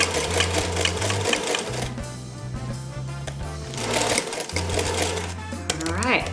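Sewing machine stitching a fabric medical face mask, a loud rapid whirring in bursts with brief stops, while a person talks over it.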